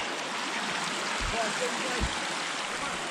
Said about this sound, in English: Check this trail out right here. It is just running water, which is kind of awesome.